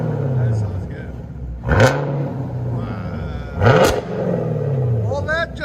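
A 2021 Chevy Camaro LT1 with a 6.2L V8 and straight-piped dual exhaust rumbles at idle, then revs hard twice in sharp, loud bursts that fall back to a throbbing burble, with people talking over it.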